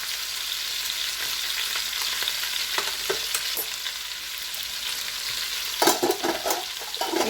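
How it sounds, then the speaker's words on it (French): Spinach and chicken drumsticks with coriander powder stirred in a pan over lowered heat, a steady sizzle with scraping spoon strokes that turn louder and more clustered near the end. "je vais mélanger le tout correctement"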